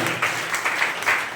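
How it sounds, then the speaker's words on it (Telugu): Audience clapping at a church gathering, bursts of hand claps swelling and easing in a loose rhythm, moderately close and steady with no speech over it. "గట్టిగా చప్పట కొట్టండి."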